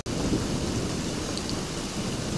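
Rain pours steadily during a thunderstorm at a carport, a dense, unbroken wash of falling water with deep rumbling underneath, loud and continuous throughout.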